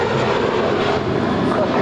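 A JetBlue Airbus A321 departs LAX with a loud, broad jet engine roar, steady and close, while a voice talks over it.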